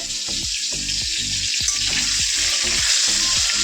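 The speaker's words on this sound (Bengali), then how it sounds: "মাছের ঝোলের আলু ভাজা হয়ে গেছে" Potatoes fry in hot oil for a fish curry, a loud continuous sizzle broken by repeated stirring scrapes at a fairly even rhythm, close and with no talk.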